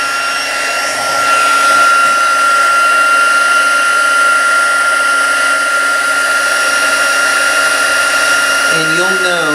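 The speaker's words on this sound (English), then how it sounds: "let's take our embossing gun. Do heat it up for a few minutes." A steady, loud whirring blower drones continuously with a high whine, an embossing heat gun running close by, shifting slightly near the end.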